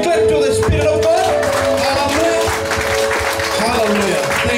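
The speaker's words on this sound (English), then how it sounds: "Give a hand clap to the Spirit of God" Congregation clapping in a church service, loud and continuous under sustained music tones and voices singing or calling out.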